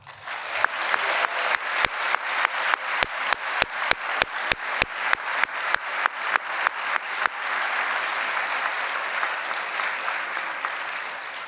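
A crowd at a graduation celebration gives applause that swells into a rhythmic, unison clap of regular beats, then settles into a sustained, dense wash of clapping.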